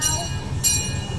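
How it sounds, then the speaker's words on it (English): A tour train at the Lake Winnie amusement park rolls along with a steady low rumble of cars on track, with short bursts of brighter hiss recurring over a continuous mechanical drone. "Lake Winnipesaukee tour train."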